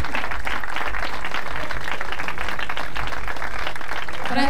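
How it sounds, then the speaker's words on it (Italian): A large outdoor festival crowd at a seaside lido in Valderice applauding the town's mayor, Francesco Stabile, a loud, continuous roar of clapping that holds steady from start to finish. "vi chiedo di fare un grandissimo applauso per il sindaco di Valderice, Francesco Stabile"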